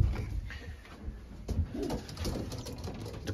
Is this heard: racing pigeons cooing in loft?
yes